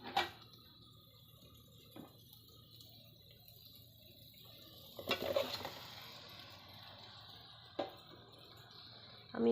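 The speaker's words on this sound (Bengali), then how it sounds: "এখন আমি মাংসটা দিয়ে দিব, ম্যারিনেশন করা মাংসটা" Marinated duck meat tipped into a pot of fried spices, giving a soft clatter and a burst of sizzling around the middle, with a few brief stirring knocks over steady low frying.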